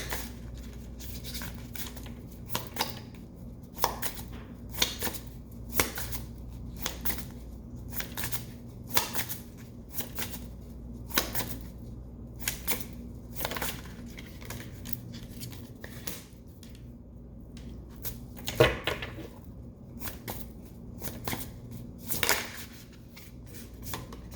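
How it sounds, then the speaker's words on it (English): Tarot cards shuffled and drawn for a reading, a long series of soft irregular card flicks and taps over a low room hum, close and quiet with no talking. "I pull all of the cards and then I'll be able to give you the intuitive message."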